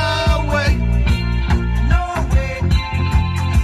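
Rock music plays loudly: a steady, driving beat with a repeating bass pattern and bright guitar chords, continuous throughout with no voices over it.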